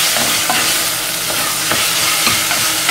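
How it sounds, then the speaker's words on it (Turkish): Onion sautéing with tomato and pepper paste in a pan for a bean pilaki dish, giving a loud, steady sizzle and hiss close up, broken by occasional scrapes of a stirring spoon. "Biraz daha kavurmaya devam ediyorum."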